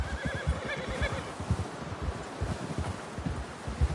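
A horse in the Red Dead Redemption 2 game gives a short whinny over rapid, close hoofbeats and rustling ground, with wind noise behind.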